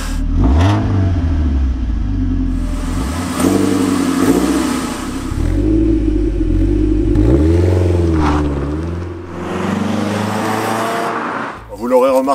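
A Chevrolet Beretta GTZ four-cylinder engine revs repeatedly, rising and falling in pitch with throaty harmonics, loud and close, with a brief blip near the end.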